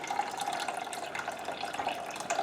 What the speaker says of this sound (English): So let me go ahead and pour that in.